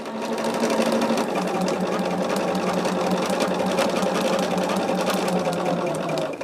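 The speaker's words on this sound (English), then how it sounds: "I just do all of my quilting right here on top of my machine." A home sewing machine quilting a quilt top runs in one steady, continuous whir from start to finish, close and fairly loud, with no pauses.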